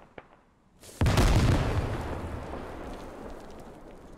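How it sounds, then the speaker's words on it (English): A rocket launch and blast in the Squad military shooter game rings out as a sudden loud broadband boom after a faint click, then a long rumbling decay that trails off over several seconds, with no talk. "Bartok shoots a rocket out"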